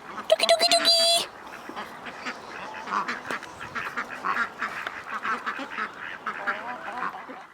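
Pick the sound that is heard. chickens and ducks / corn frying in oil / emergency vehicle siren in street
chickens and ducks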